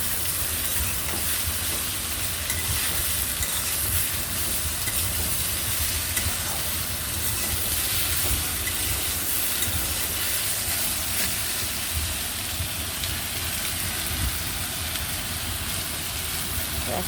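Chopped potato and bitter gourd fry in a pan, giving a steady, close, continuous sizzle with faint stirring that holds evenly throughout.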